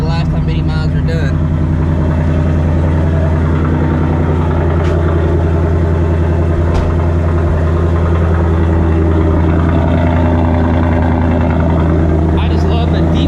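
A stock 2024 Ford Mustang GT with its Gen 4 V8 idles steadily at close range, a deep, continuous low rumble that holds level throughout, with a voice speaking over it.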